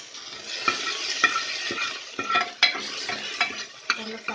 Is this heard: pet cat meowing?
no